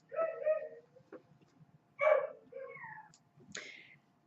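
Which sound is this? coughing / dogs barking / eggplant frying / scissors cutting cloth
dogs barking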